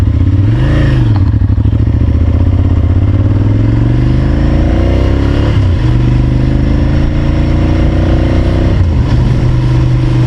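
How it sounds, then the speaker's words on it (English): A Ducati 796 Monster motorcycle engine is heard loud and close while riding, droning steadily as the revs rise and fall through gear changes, with no talking. "Okay, so we're on a Ducati 796 Monster."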